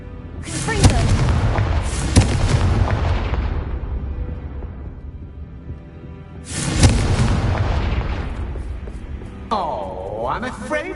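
The Confringo explosion spell in Hogwarts Legacy: two loud, booming blasts, each with a long rumbling decay, followed by a rising magical whoosh near the end.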